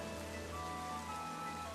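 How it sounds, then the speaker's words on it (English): Rain falls steadily in the Pokémon Sword game world, a dense, even hiss of droplets that stays constant and fairly quiet throughout, laid over faint sustained tonal game music. "The rain's going to be one of the sights you got to experience."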